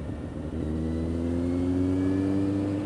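A Kawasaki Z750R motorcycle being ridden, with a close, loud engine note that rises in pitch as it revs through acceleration over a few seconds, steady and without speech.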